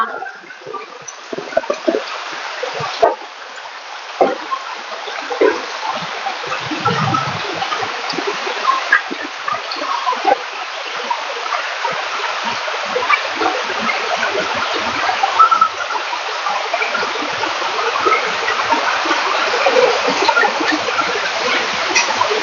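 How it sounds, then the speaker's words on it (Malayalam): Floodwater rushes and gurgles steadily around the back of a house, a continuous flowing wash with occasional splashes, growing slightly louder over time. "നമ്മുടെ വീടിന്റെ ബാക്കിലും വെള്ളം കയറി തുടങ്ങിയിട്ടാ"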